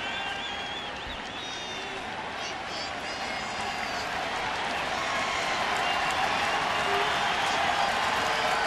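A baseball stadium crowd of about 42,000 at a night game, a dense continuous roar that builds gradually, with a commentator talking over it.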